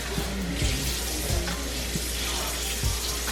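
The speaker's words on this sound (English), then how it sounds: "So I'm just rinsing them off really good." Cold tap water runs into a kitchen sink while cleaned shrimp are rinsed, a steady close hiss of flowing water with a few soft bumps and splashes.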